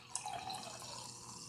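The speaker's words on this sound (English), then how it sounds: "And you can pretty much add as much soda water as you want." Filtered soda water from a SodaStream poured into a glass of elderberry aqua fresca, a brief fizzing, splashing trickle with a faint clink at the start, heard close and alone.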